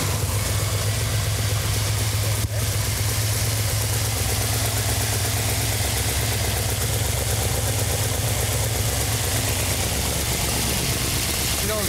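A 1971 Plymouth Cuda 340 V8 engine idles steadily with a deep, rumbling low drone throughout, loud and close, with one brief click partway through.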